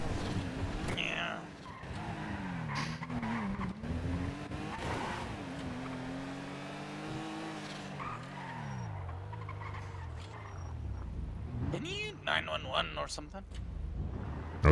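A video-game car engine revs and whines through shifting pitch, its tyres squealing for lack of grip, with a sharp screech near the end and people talking over the driving sounds.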